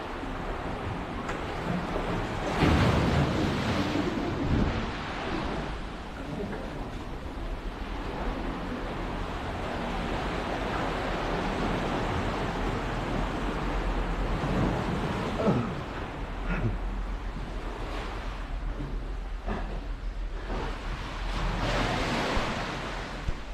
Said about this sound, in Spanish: Y llega el agua hasta acá arriba, oye.